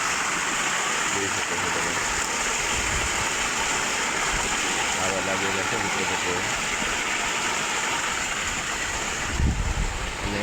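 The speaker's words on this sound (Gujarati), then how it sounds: "આ બાજુથી ધોરિયા ત્યાં વળાય છે પાણી" Irrigation water running steadily along a channel on a farm with papaya trees, a continuous broad rush heard close up, with someone talking over it and a low engine-like hum beneath.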